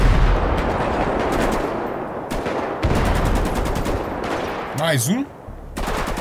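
Rapid gunfire in GTA V during a chase after a fugitive drug dealer, loud dense bursts running almost continuously, with a brief gap and a whooshing sweep near the end and a voice talking over it.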